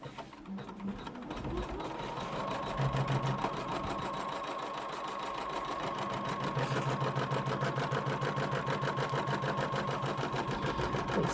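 A home embroidery machine stitches the outline of an in-the-hoop notebook cover in a steady, rapid mechanical chatter that runs continuously and fairly close, with a brief pause early on.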